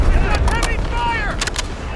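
Gunfire in the video game Delta Force, a burst of loud close shots and echoing blasts with ringing tails over a couple of seconds, dense and heavy like a firefight.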